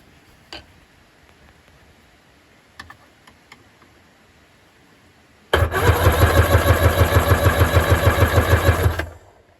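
A 1997 Seadoo XP 787 two-stroke watercraft engine cranks over on its starter during a compression test, a fast steady chugging pulse that starts abruptly after a few quiet clicks and runs loud and close for several seconds before stopping.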